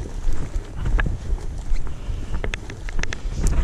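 Wind blowing outdoors on a hillside walk near farm ruins, a steady rough gusting rush buffeting the microphone, with a few faint clicks and knocks over it.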